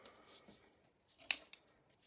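Scissors snipping through paper craft material, a few short close cuts with a sharp louder snip near the end, no talking.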